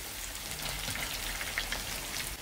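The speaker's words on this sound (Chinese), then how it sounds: "用小火把那个味道给它慢慢煎进去" Soft, even crackle of spices and dried chili sizzling in oil over low heat, a faint continuous hiss with no voices.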